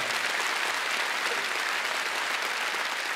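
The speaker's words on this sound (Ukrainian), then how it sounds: "Ваші бурхливі оплески," Sustained audience applause welcoming guests on stage at a Ukrainian event, a steady even wash of clapping at moderate level with no speech.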